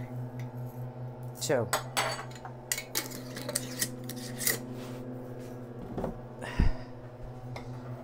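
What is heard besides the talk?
scoops of wild rice being measured into a dish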